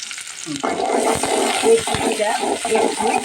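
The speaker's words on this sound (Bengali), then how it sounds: "এবার পেস্ট দিয়ে দিচ্ছি পেস্ট দিয়ে দিলাম" Spice paste hits a hot pan with cumin for a bottle gourd and chana dal curry, setting off a dense, continuous sizzle that swells and crackles up close.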